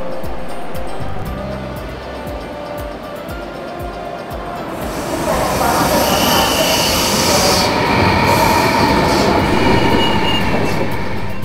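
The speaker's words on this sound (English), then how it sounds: "This is a train for my return journey back to Shanghai" A train rumbles and hisses beside a station platform in China, its steady mechanical roar swelling louder partway through, with faint high squeals and clatter.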